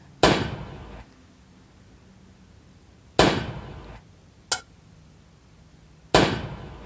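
Fireworks tower shots in the Roblox game Toilet Tower Defense: three loud bursts at steady intervals, each trailing into a short crackle, with one smaller sharp pop between the second and third.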